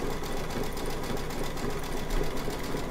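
An embroidery machine stitching an in-the-hoop hockey mug rug from plaid fabric, a steady, fast mechanical whir and rattle that runs without a break at moderate volume.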